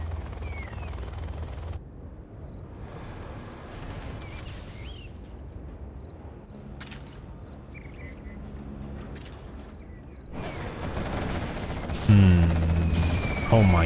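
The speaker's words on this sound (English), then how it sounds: "Artillery coming from Tumstep." Artillery fire in a competitive 1v1 video game match, with bursts of distant-sounding shots and a low rumble that builds louder toward the end, under faint game ambience.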